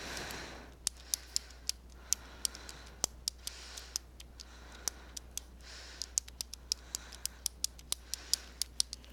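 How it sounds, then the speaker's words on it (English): Graphing calculator keys are pressed in quick, irregular bursts of sharp plastic clicks while matrix elements are entered, close and isolated over a faint steady hum. "Then I type in my elements."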